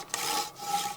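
Silky folding bushcraft saw cutting through wood, a steady close rasping stroke that runs without pause through the second, rising and easing slightly between pulls.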